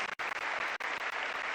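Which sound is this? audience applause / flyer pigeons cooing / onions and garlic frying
audience applause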